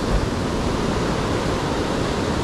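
Ocean surf at the shore at Isipingo, Durban, makes a steady, loud wash of broadband noise with no breaks and no voices.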